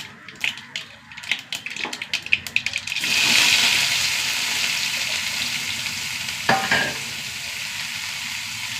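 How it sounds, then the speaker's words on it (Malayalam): Finely chopped onions tipped into hot oil with crackling mustard seeds, starting with a few sharp clatters and spits, then a loud steady sizzle that holds, with a brief scrape of stirring near the end. "ഇതിലേക്ക് 2 സവാള കേട്ടോ, നൈസായി അരിഞ്ഞതാണ്."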